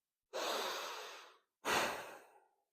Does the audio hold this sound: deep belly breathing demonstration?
yes